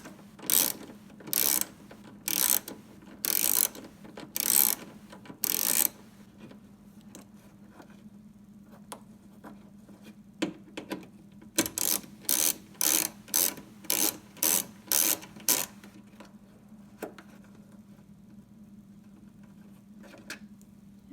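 A ratchet with a 7mm socket removes the upper headlight screw on a Chevy Cruze, giving two bursts of rapid, evenly spaced clicks, close and crisp over a low hum, with no talking.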